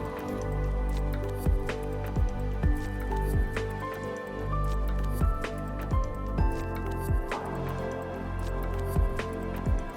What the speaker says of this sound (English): you're going to take your mixing spoon that comes with the kit, and you're going to mix this up until it is all gummy